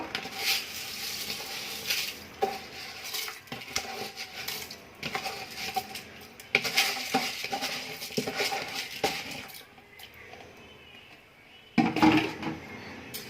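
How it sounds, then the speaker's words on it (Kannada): Washed rice being stirred into a vegetable biryani mixture in a pressure cooker, with repeated scraping and clattering strokes of a spoon against the metal pot and a soft background sizzle. "ಈಗ ಒಂದು ರೌಂಡು ಈ ರೀತಿ ಕಲಸಿ"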